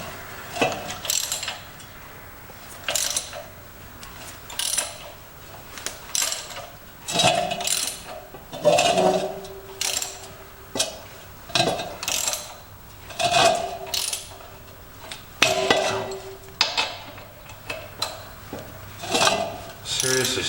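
An old, stiff Brinly sleeve hitch disk harrow being worked and tightened, giving repeated bursts of ratcheting, grinding metal clicks and scrapes in an irregular rhythm, close by.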